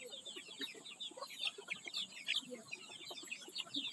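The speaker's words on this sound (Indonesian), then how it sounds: "ayam makan dengan lahap" Chickens eating feed at close range, many soft overlapping clucks and pecking sounds forming a busy, continuous flock chatter in a small backyard coop.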